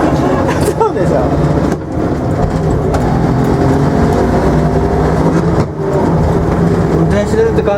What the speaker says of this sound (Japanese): やっぱうるさい車いいな